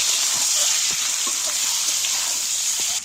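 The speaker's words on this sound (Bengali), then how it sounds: "এবার আমি ডিমগুলো এর মধ্যে নেড়ে করে ভেজে নেব" Eggs tossed and fried in hot oil in a pan for an egg and cauliflower curry, making a close, steady sizzle with soft stirring clinks throughout.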